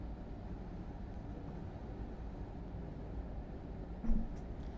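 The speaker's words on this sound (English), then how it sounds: "Yep, no glitch. That's how the train sounds." Train sound in Microsoft Flight Simulator 2020, a steady low rumbling drone with a continuous rolling hiss and one short brief tonal squeal near the end.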